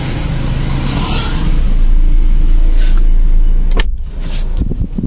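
A Honda CR-Z idling just after a jump start, a steady close engine hum with a brief swell in the middle and a short click or knock near the end.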